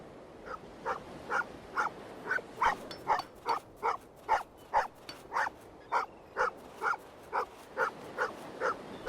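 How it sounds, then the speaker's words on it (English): A dog barks repeatedly in the point-and-click game All Is Not Well In Eriswell, about fifteen evenly spaced, clear barks at close range over a quiet background. "Right, gonna scare the dog."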